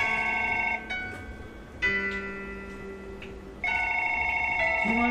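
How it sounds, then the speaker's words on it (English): A telephone in a video game rings in a steady electronic trill, with repeated bursts broken by brief pauses and a lingering tonal chime, close and clear with no talking over it. "Get up and answer the phone"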